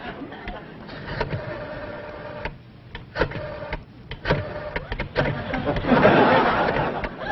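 A rotary telephone dial is spun repeatedly, each turn giving a whirring ratchet that clicks back, close and irregular, with short gaps between spins and faint background laughter.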